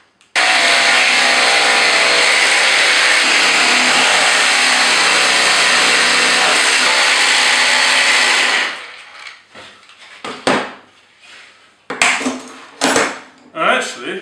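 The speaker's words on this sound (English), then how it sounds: "that's the first time I've used my jigsaw to do this" Jigsaw cutting out a wooden Gothic bench seat: a loud, steady buzzing whine running unbroken for about eight seconds, then stopping abruptly, followed by scattered clunks and knocks of handling wood.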